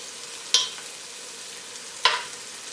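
Vegetables sautéing in a pot for black-eyed peas give a steady, soft sizzle, broken by two sharp scraping stirs about a second and a half apart.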